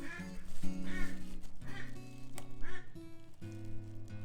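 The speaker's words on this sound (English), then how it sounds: "ducks are very noisy" Ducks quack loudly and repeatedly at close range, harsh nasal calls overlapping in uneven bursts, with a steady hum running underneath throughout.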